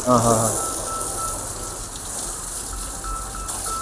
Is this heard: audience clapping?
no